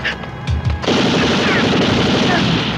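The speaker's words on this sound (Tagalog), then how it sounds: "May putukan!" Gunfire in a comedy film scene, a few sharp shots followed by a dense continuous rattling burst like rapid automatic fire, loud and close.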